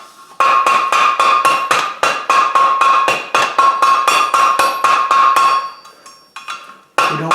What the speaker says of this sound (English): we're going to dress the top and the bottom at the same time on the horn of that anvil